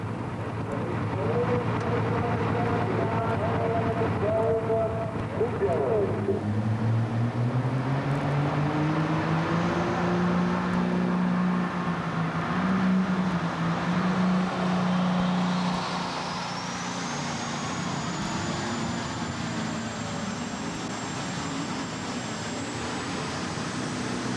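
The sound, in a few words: modified pulling tractor engine roaring during tractor pull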